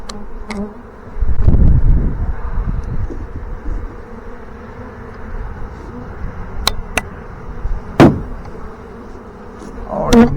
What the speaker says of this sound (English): That box is slammed full of bees, you hear me?